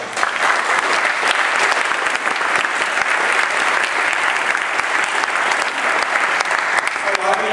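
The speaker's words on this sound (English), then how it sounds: "Let's give Brian a round of applause." Audience at a DC tech meetup applauding for a presenter named Brian, a loud, steady wash of many hands clapping that holds for the whole stretch.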